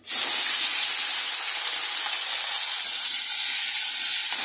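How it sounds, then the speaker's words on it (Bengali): Prawns frying in a pan, cooking for a Bengali prawn bharta, give off a loud, steady, close sizzle that holds evenly throughout with no talking. "চিংড়ি মাছটা ভাজা বসিয়ে দিচ্ছি।"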